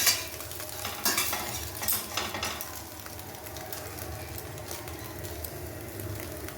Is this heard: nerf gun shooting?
no